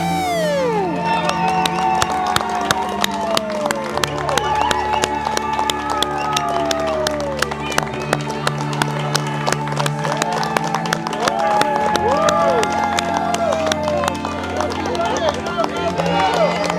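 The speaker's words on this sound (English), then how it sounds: "you could start hearing like the crowds cheering and everything" Crowd cheering at an ultramarathon, with steady hubbub, clapping and shouting voices, plus whistle-like calls and sustained tones throughout, loud and continuous with people talking.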